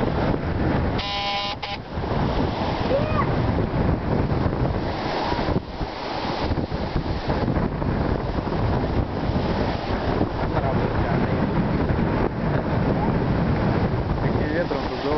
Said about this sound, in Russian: Таким ветром тут бывает тоже нехило.